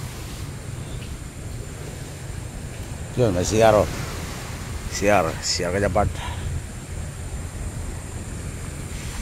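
Steady wind noise buffets the microphone at the shore in Lotaw, Calbayog, Samar, Philippines, with two short bursts of talk partway through.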